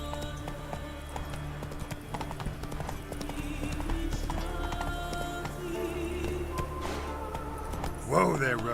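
Hooves of Roach, a horse in The Witcher 3 game, clip-clop steadily at a walk through a busy game soundscape with music and ambience, a voice speaking over it and a brief whinny-like burst near the end.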